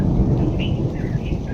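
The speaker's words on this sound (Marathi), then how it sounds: "ढगांचा कडकडाट, विजांचा कडसळसळाट." Deep thunder rumbles loud and close through unseasonal rain around a house with mango trees, a heavy low roll over a steady wash of rainfall, no talking.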